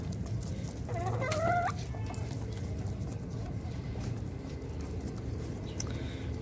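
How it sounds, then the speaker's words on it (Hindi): Hens nearby cluck a few times, with a short burst of calls early on, as they feed on berseem grass; a low background rumble continues throughout. "ये हमारी प्यारी प्यारी मुर्गियां जो है ना, बहुत शौक से खाती हैं।"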